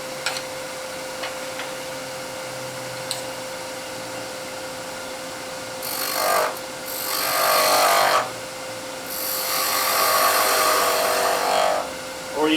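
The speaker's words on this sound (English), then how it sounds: "The other thing you're going to want to do is square off the end, and you can do that with the skew" A wood lathe hums steadily, then bursts of harsh, scraping cutting noise as a skew chisel squares off the end of spinning wood, loud and close, with short pauses between passes.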